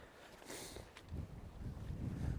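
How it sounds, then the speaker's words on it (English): A strong westerly wind gusts along the Bristol Channel shore, a steady low rumble of buffeting against the microphone that swells and builds over a couple of seconds. "a little bit of a strong westerly wind blowing right up the channel"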